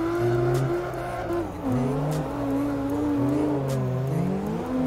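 A 2300-horsepower truck drives in CarX Drift Racing, its engine droning steadily with pitch rising and falling as it revs, tires faintly hissing, loud and close throughout.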